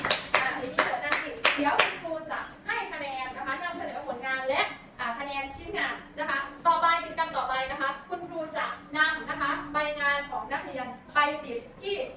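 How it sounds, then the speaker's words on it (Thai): Children in a classroom lesson clap together for a classmate, bursts of sharp, fast claps followed by lively kids' voices and chatter that continue through most of the stretch. "ปรบมือให้เอมมี่ค่ะ"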